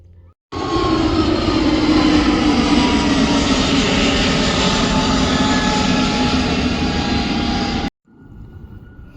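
A loud airplane engine roars close overhead near an airport, a steady powerful drone that holds for several seconds and then cuts off abruptly.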